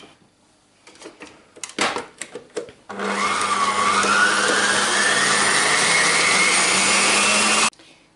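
A stand mixer whipping cold cream in its bowl, a steady loud motor whir with a slowly rising pitch running for about five seconds, preceded by a few knocks and clatters as it is set up.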